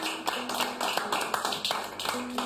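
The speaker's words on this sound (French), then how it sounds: "En tout cas, moi je vous applaudis." Steady applause from an audience, dense overlapping claps at close to moderate distance, continuing evenly throughout with a faint voice underneath.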